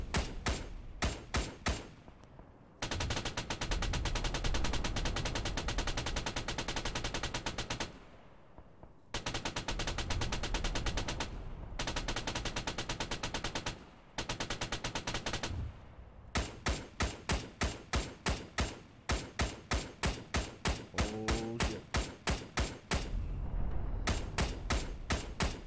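Vehicle-mounted machine gun fired by a gunner in ARMA 3, loud rapid bursts of gunfire alternating with long sustained streams of continuous fire, separated by brief pauses, with no voices.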